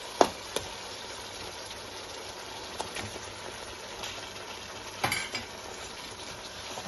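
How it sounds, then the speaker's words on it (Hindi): Spices being stirred in a pan for chicken biryani, a soft continuous sizzle with a few sharp utensil clinks against the pan, close and fairly quiet with no talking. "अब हम मसालों को बहुत अच्छी तरह से मिक्स कर लेंगे।"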